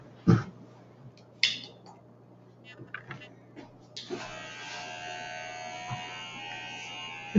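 Electric hair clippers running during a home haircut, a steady faint buzz that starts partway through after a few knocks and rustles.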